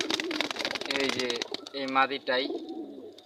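Pigeons coo in low, throaty bursts close by while someone talks over them, the calls rising clearly in the gaps of his speech toward the end.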